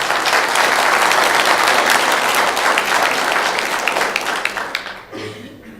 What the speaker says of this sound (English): if we could hold your applause